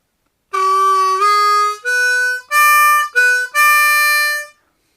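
A harmonica plays a short riff from a song's solo, six sustained, bright notes, each held and separated by brief breaks, loud and close with no other sounds.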